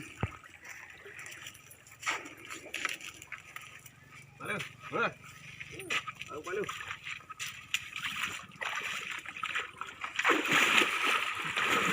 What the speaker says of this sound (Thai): เราจะมาดูพี่พลอยลงน้ำกัน